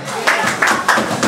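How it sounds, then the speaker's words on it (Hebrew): An audience at a father-and-son event applauds Eyal Cohen, a few loud rhythmic claps close by, with a voice partly over them. "תודה רבה לאייל, כפיים לאייל."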